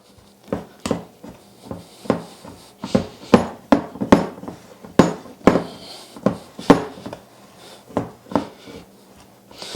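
A pastry cutter cutting shortening into flour in a bowl, a steady series of close, sharp taps and clunks at a roughly even rhythm, about twenty strokes, with no talking.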